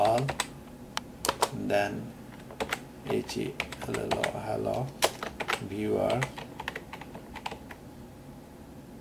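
Computer keyboard typing at a Windows DOS command prompt, with quick irregular bursts of keystrokes through most of the stretch and someone talking over them.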